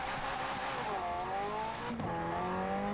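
A McLaren F1 engine in a video game revs steadily with rising and falling pitch, shifting gears partway through, loud and close with no talking.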